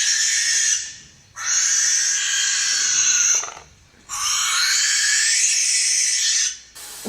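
Harsh, hissing barn owl screeches, loud and close: a long rasping shriek, a short pause, then another drawn-out scream.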